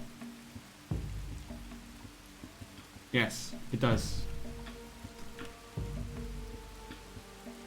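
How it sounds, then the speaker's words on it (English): Steady rain falls in the survival strategy game Dawn of Man, a soft continuous hiss spread across the scene, with a few brief game sound effects and a voice talking over it. "Now it's raining."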